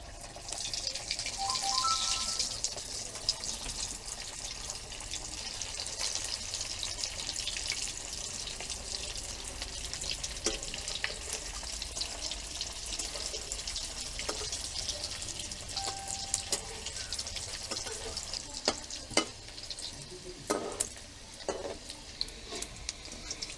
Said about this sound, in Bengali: কড়াইতে তেল দিয়ে দিলাম, এক এক করে ভেজে নেব।